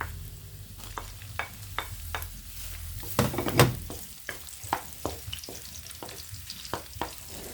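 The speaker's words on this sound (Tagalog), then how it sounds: "So, ilagay natin yung ating onions." Onions hit hot oil for a tilapia coconut-milk stew, giving a burst of sizzling followed by steady frying and a series of rhythmic spoon scrapes and taps against the pan, fairly close and without talk.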